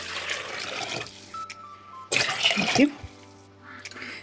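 Water pours from a tap for a cabbage marinade in a home kitchen, two bursts of running, splashing water with quieter pauses between them.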